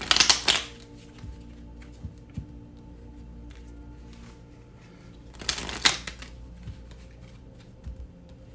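A deck of oracle cards is shuffled for a reading in two short, crisp riffling bursts, separated by several seconds of near quiet with faint small handling noises.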